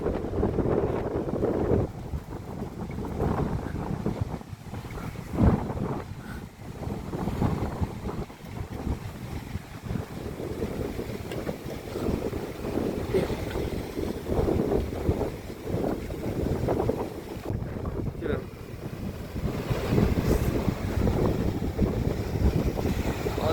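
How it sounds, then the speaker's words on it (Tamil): Strong rainy-season wind blows across the sea shore at Mathagal, roaring and buffeting the microphone in gusts, with crashing surf mixed in throughout. "காற்று எல்லாம் எப்படி மோசமாக அடிக்குது பாருங்க"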